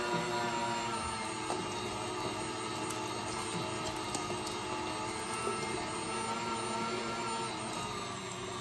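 An electric meat grinder with a big-hole plate coarse-grinding venison and fat for deer burger, a steady loud motor whine with a constant hum and no voices.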